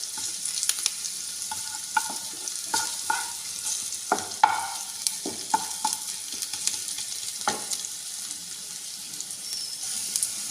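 Garlic fries in a pan over a medium flame, giving a soft, steady sizzle broken by faint scrapes and clicks of stirring.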